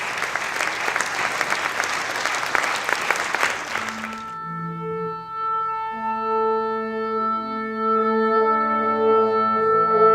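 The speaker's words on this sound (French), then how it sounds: "On peut les applaudir." An audience at the Capitole claps for the Sinfonia Ensemble at a Wagner film-concert, dense and bright for about four seconds, then stops abruptly as sustained orchestral tones begin and hold through the rest.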